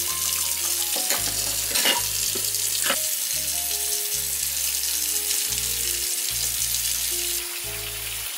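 Water runs steadily from a tap into a kitchen sink as it fills for soaking dishes with vinegar and dish soap, a continuous hiss and splash under faint background music, with no talking.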